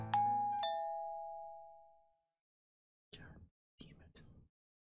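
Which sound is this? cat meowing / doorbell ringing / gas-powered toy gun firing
doorbell ringing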